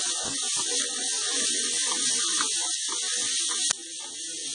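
Onion and ginger garlic paste frying in a pan for spicy chicken masala, a loud continuous hiss of sizzling close up, with faint clinks beneath and no talk.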